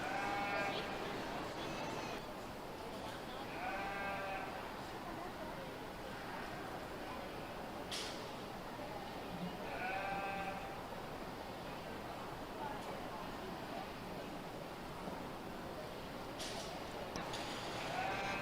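Goats bleat in several separate calls during a livestock breeding show at a 4-H and FFA county fair, heard over a steady crowd and hall din.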